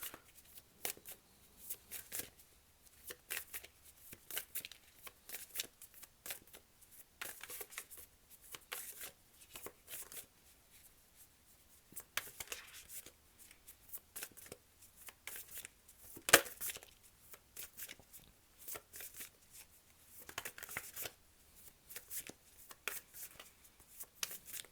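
Tarot cards shuffle by hand in steady, rapid riffling bursts, soft and close, with short pauses and one sharper tap midway.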